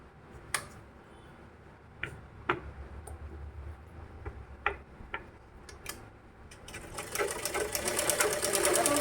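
A sewing machine stitches fabric, with scattered near clicks and taps, then a denser rapid run of stitching near the end, no voices present.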